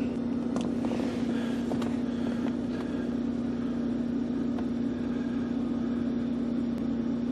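A Ford 3.5 Duratec engine idles steadily while warming up, giving off a constant low hum and a faint whir with no break. The sound is fairly quiet and no one speaks over it.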